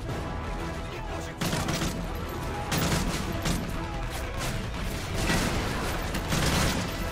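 Rapid bursts of automatic gunfire from Russian weapons in Call of Duty: Modern Warfare 3, loud and continuous with a few heavier cracks standing out, filling the whole stretch.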